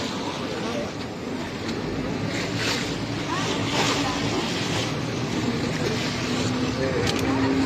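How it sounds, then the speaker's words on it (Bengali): Big sea waves wash steadily around a boat crossing open water near Venice, a continuous broad rushing roar with wind, loud and unbroken throughout. "বড় বড় ঢেউ"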